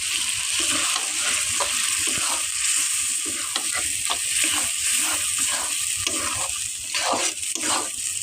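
A rohu fish head cooks with golden moong dal in a pan, sizzling steadily under close, rhythmic stirring strokes that scrape and slosh about once every half second.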